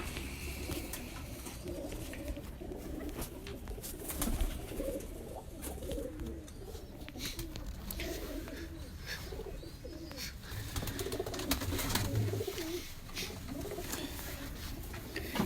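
Golden and Ferozpuri pigeons in a Lahore breeder's loft keep up steady overlapping coos, a low throaty murmur that runs throughout, with occasional faint chirps and a brief wing flutter.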